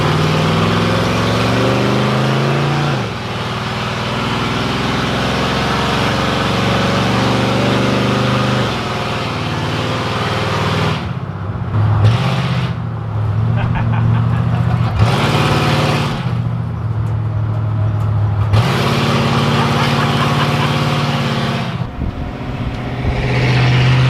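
A big truck engine idles with a deep, throbbing rumble, loud and close, with the pitch shifting and a few revs partway through.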